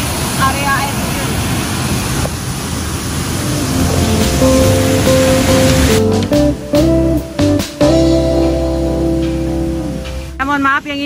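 A waterfall at a curug in Banyumas, Indonesia, gives off a loud, steady roar of falling water. Tonal music joins partway through, with choppy breaks and a brief warbling sound near the end.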